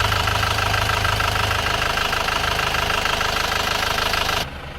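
An Isuzu Panther LV diesel engine idles close by in a loud, steady clatter with a rhythmic knock, then drops off sharply near the end.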